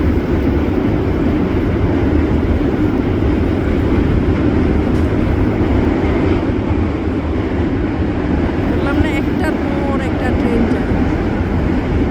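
A train passes in New York with a loud, steady broadband rumble that holds at the same level throughout, while faint voices talk underneath.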